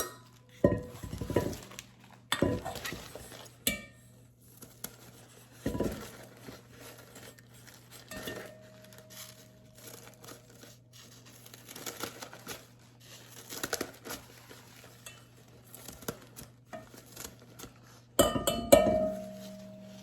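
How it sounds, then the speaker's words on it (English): Knife strokes cut a cooked egg over a bowl into confetti bits: soft scattered taps and clinks against the dish, spaced apart and fairly quiet, with a sharper clink near the end. "And then I can cut the other way over the bowl to create confetti."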